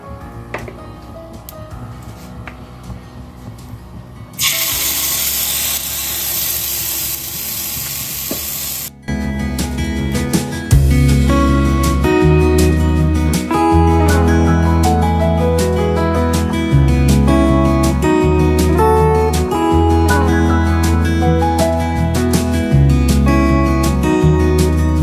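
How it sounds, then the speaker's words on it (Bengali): Rice flour batter for chitoi pitha hits a hot oiled pan with a loud, steady hissing sizzle lasting a few seconds, followed by background music that takes over. "এইবারে গোলা ছাড়বো"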